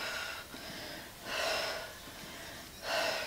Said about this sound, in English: Breathing out every time you come up,